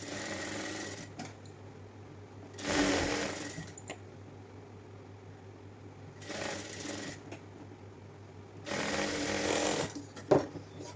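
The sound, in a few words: sewing machine stitching the neckline of a nightyfrock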